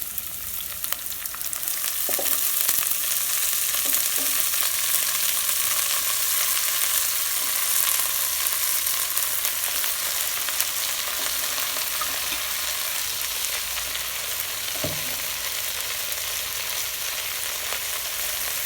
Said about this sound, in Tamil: வெங்காயம் லைட்டாக வதங்கிடுச்சு நம்ம பச்சை மிளகு கூட கீரையை இதில் சேர்த்துடலாம்